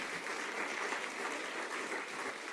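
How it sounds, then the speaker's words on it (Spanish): A church congregation claps together in praise, a continuous, fairly distant roll of many hands at even strength, with no speech over it. "Dale un aplauso al Señor."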